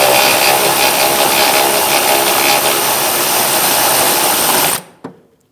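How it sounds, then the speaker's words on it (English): A ratchet with a 15 mm socket snugging a nut on the rear upper rearward control arm of a 2016-2025 Chevrolet Malibu: a loud, continuous mechanical whirring for several seconds that stops abruptly, followed by a single sharp click. "I'm going to hold it with my ratchet and I'm going to snug this nut up"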